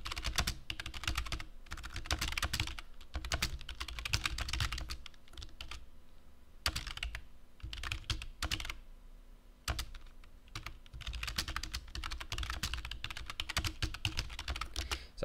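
Rapid keystrokes clatter on a computer keyboard while posting in Google Classroom, close and crisp, in bursts of fast typing broken by a few short pauses.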